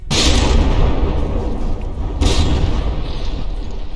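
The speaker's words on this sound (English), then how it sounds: "Oh, there was a mortar hit." A mortar shell strikes a battleship in the naval combat game From the Depths, giving a loud, deep boom followed by a second heavy impact about two seconds later, each trailing into a rumbling roar.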